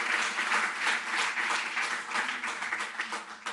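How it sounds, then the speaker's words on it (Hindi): Audience applause welcoming the chief guest at a Delhi government event for sports medal winners, steady rhythmic clapping from a crowd, moderately loud and continuous for a few seconds. "आप सभी से अनुरोध करता हूं कि तालियों की करतल ध्वनि से आपका स्वागत करें"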